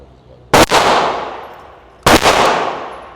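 Two loud, sharp reports from a suppressed Glock 44 with a Huxwrx 22 Ti suppressor, firing subsonic rounds from a 10-round PMag at a range, each followed by a long ringing decay, about a second and a half apart.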